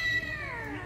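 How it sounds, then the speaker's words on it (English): A cat-shaped Halloween decoration gives a single loud electronic meow, a tonal, slightly wavering call with no voices over it. "That's cool. I like the cat."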